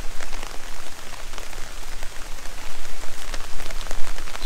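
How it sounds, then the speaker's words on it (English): Heavy rain falls steadily at a house build site in the Philippines, a dense, continuous patter of drops on surfaces with no voices. "It's been raining all night."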